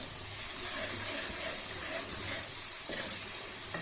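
Fresh coriander and a green chili dropped into a hot dal masala tempering for dhaba-style chana dal, giving a steady close sizzle and frying hiss with light stirring throughout.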